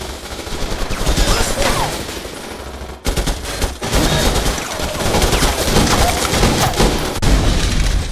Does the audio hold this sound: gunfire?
yes